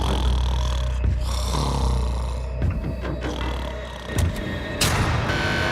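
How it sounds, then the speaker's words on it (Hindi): A man snores loudly at night in a prison cell, with rough, rumbling breaths that repeat in an irregular rhythm, up close and with no talking. "तुम्हारे खर्राटों ने सोने नहीं दिया।"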